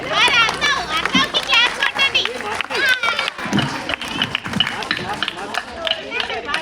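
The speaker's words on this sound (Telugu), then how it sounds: "అందరూ ఒకసారి గట్టిగా చప్పట్లు కొట్టండి." Group of children clapping together during a Ganesh Chaturthi skit, a busy burst of hand claps mixed with lively kids' chatter and crowd noise, loud and close throughout.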